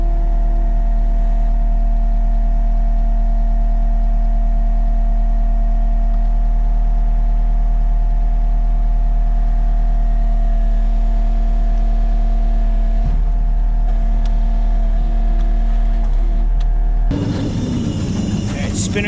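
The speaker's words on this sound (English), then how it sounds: "Spinner's working and the chain is spinning." A salt spreader's spinner and chain run under test during maintenance, producing a loud, steady mechanical drone with a constant whining tone that shifts and roughens near the end.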